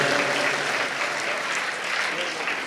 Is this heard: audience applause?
yes